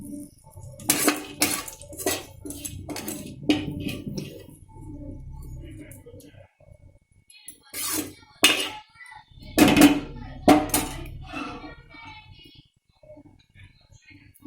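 Steel dishes and utensils clinking as cooked green chilies are scooped onto a plate for a village-style pachi mirchi pachadi, sharp irregular knocks and scrapes up close, with someone talking between them.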